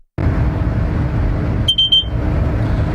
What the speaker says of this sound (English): That noise you just heard was a system called a VACMAR,